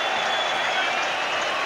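A packed stadium crowd at the Rugby World Cup final roars and applauds in a continuous, dense wall of cheering heard from within the stands.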